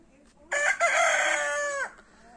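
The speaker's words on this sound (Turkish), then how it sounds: "Ama horoz uyutmuyor insanı çok." A rooster at a village house crows once, a loud, close call of about one and a half seconds with a falling end.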